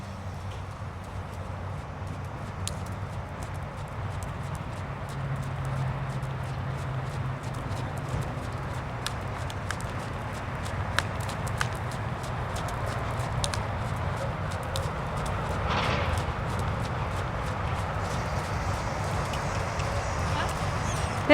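A horse walking during a riding lesson, its hooves clip-clopping faintly and irregularly over a steady outdoor background hum.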